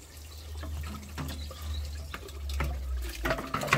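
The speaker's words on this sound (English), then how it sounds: "Just tip it out, let it drain out." Water drains out of a tipped TITAN wet and dry vacuum tank, a steady close pouring and splashing with some gurgling, ending in a few sharper splashes.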